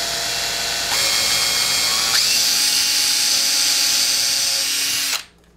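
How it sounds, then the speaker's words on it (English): An electric power drill whirs steadily while boring holes through a wooden dowel for a homemade wine must mixer, pitch rising once as it bites, then cutting off abruptly at the end. "drilling on something gives you nice clean holes on both sides so it doesn't splinter"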